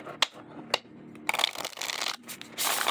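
A tarot deck with gilded edges and matte indie cardstock is shuffled close by in quick riffling bursts and soft slaps, separated by short pauses.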